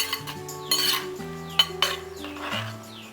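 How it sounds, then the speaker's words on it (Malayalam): Ground masala paste for sambar is stirred in a pot, with a spoon clinking, scraping and rubbing against the metal in irregular strokes under a faint sizzle. "നമുക്കൊന്ന് ഇളക്കി കൊടുക്കാം."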